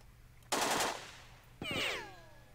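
Gunfire in the tactical video game Jagged Alliance 2: a short, loud burst of automatic fire, then after a pause a second blast followed by a descending, whining cry. Both are heard alone, without talk.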